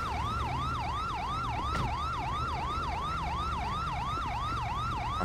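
Ambulance siren from GTA 5, a steady rapid wailing yelp repeating continuously and loudly over low traffic rumble, with no talk.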